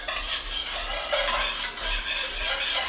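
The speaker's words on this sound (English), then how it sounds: "Gonna mix this in until the butter dissolves." Brown sugar being stirred into melted butter in a saucepan for a glaze, a close, steady swishing and scraping of the spoon with a soft sizzle beneath, no talking.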